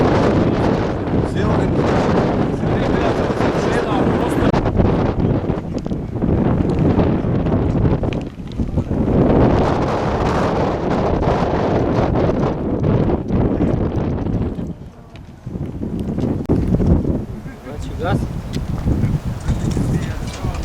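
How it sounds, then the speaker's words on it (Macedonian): Strong wind blowing over an open hillside near a water tank, buffeting the microphone in loud gusts that rise and fall throughout, with people talking underneath. "штета што ветерот пак започна"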